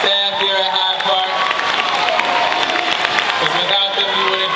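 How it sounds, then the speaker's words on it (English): Graduates and guests at a Hyde Park Academy graduation clap and cheer for the school staff, a loud close crowd roar of applause mixed with whoops and shouting voices, sustained throughout. "Clap it up for the staff here at Hyde Park."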